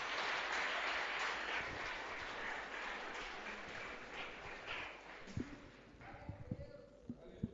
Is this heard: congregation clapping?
yes